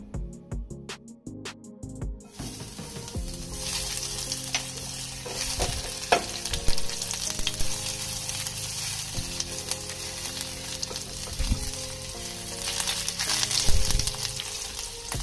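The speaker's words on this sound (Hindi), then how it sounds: "ऑयल को हीट करने के बाद हम इसमें डालेंगे 5 क्लोव्स ऑफ चॉप्ड गार्लिक," Chopped garlic, five cloves, sizzles steadily in hot oil for a coconut paneer dish, with stirring clatter and spoon scrapes over a continuous frying hiss after a quiet start.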